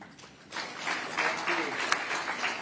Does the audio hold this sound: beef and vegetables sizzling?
no